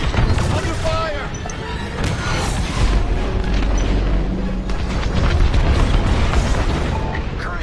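Capital-ship cruiser blowing up in Star Wars Squadrons space combat, a loud sustained roar of rumbling blasts and crackling fire that fills the whole stretch, with radio voices talking over the din.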